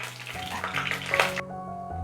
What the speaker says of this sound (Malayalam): ചെറുതായിട്ടൊന്ന് ഇളക്കി കൊടുക്കാം.